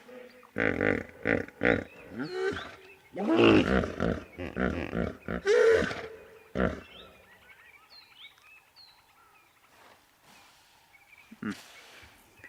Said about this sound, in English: Beautiful sound of the hippos